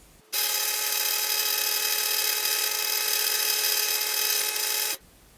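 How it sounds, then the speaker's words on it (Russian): A benchtop drill press runs alone at close range in a workshop, a steady high-pitched motor whine with strong harmonic tones that starts abruptly, holds constant for about four and a half seconds, then cuts off. "давайте посмотрим сам процесс сверления"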